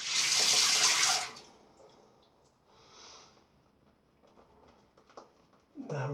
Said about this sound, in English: Now let's get some water in here.